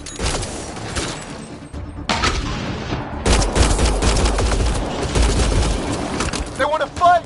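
Gunfire in the sci-fi shooter game Mass Effect Andromeda: bursts of rapid automatic shots and heavy booms in several loud volleys separated by short pauses, with voices shouting in between.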